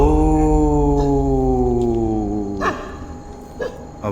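A dog lets out a long, loud, drawn-out howl that slowly falls in pitch and fades, followed by a few short quiet yips.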